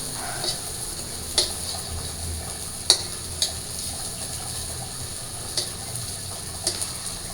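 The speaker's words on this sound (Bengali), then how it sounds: "এখন এই যে তরকারি রান্না করার জন্য আমি ডালের বড়াগুলো ভাইজে দিতেছি" Split-pea (motor dal) fritters fry in a pan with a soft, steady sizzle, broken now and then by sharp clicks and light taps of a utensil.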